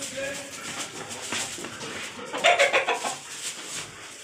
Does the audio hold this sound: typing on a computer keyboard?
no